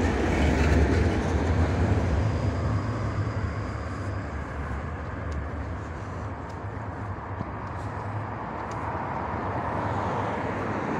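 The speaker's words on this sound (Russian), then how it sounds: "трамвайчики, видите, какие современные, красивые" A modern tram in Moscow rumbles past close by, a steady low rolling roar with faint rail clatter that stays loud throughout and fades only slightly, with no talk.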